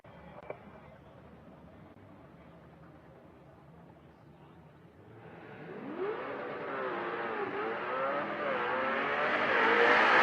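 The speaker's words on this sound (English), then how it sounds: "listen to this Fox Mustang. Sounds like nothing I've ever heard" A Fox Mustang race car at a drag race, heard from a distance at first, then its engine revs climb and wind up into a rising, loud wail as it launches and pulls away down the strip.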